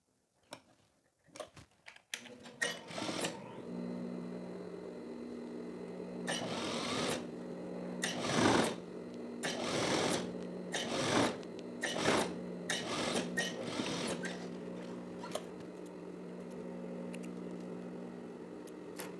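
A sewing machine stitches the folded-in hem of a teddy jacket sleeve, running in steady bursts with brief pauses between, close and clear with no talking.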